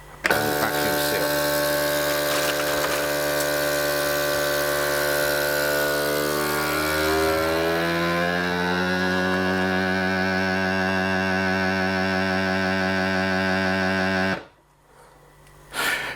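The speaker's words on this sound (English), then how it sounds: "We're going to use a moist vacuum seal." A vacuum sealer pulls air from a bag of moist food for camping meals, a steady loud motor drone with rising tones that runs unbroken, then cuts off abruptly near the end.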